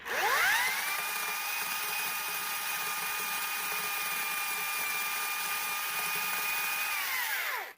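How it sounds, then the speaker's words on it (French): A small chainsaw's motor whines up to speed while cutting roundwood timber, holds a steady high-pitched drone for several seconds, then winds down. "je peux utiliser une petite tronçonneuse, comme ça"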